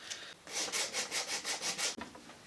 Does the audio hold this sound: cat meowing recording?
no